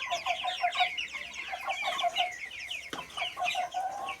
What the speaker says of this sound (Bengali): এই মুরগিটা দেখুন অনেক মুরগি আমাদের বাসায় রয়েছে।